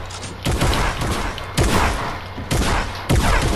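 Gunfire in the video game Fortnite, four loud, close bursts of shots, each followed by sustained rattling fire.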